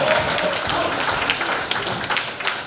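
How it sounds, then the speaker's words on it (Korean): Applause fills the room from a seated audience at a political advisory-group forum, dense steady clapping running the whole time and easing slightly near the end. "여러분 다시 한번 뜨거운 박수 부탁드리겠습니다"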